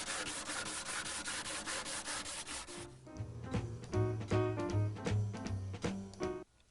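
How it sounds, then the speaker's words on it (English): 100-grit sandpaper rubbing steadily across Mission-style wooden furniture in quick scratchy strokes, then the rubbing continues under a lower, more tonal stretch before stopping. "Sand again, perimeter, and then fill in the center"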